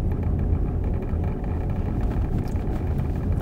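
Steady engine drone and road rumble heard from inside a car during a two-person driving outing, a continuous low roar at constant loudness with no talking.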